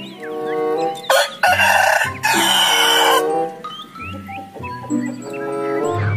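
A toy rooster crows loudly and repeatedly, its cock-a-doodle-doo calls ringing out close up, with clucking between them.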